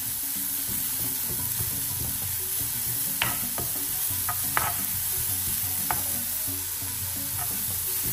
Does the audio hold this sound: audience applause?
no